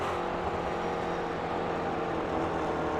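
A McLaren race car in a virtual racing game at Summit Point, its engine a steady, loud droning whine held without break, close and continuous, with no voices over it.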